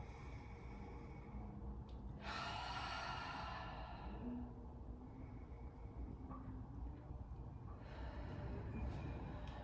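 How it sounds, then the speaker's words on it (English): One long, soft, breathy exhale during a slow yoga flow, a faint airy rush lasting under two seconds against quiet room tone, followed later by a lighter breath. "Deep breath out."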